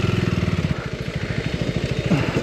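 KTM 390 Adventure R single-cylinder engine running under load while riding, a steady pulsing thrum with rhythmic firing pulses throughout, close and fairly loud, no voices.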